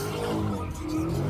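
A car sliding on pavement while burning rubber, a continuous loud tire squeal with a steady engine drone underneath, heard up close.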